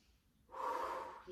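During a Pilates stretching session, an instructor takes a single close, airy breath that begins about halfway through, after near silence, and swells into a soft, sustained rush of air.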